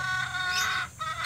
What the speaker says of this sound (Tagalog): Ayan yung manok natin, no?